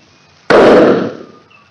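A shotgun fires once at a cardboard target from a kneeling position outdoors, a single sharp, very loud blast after a short quiet moment, decaying over about half a second.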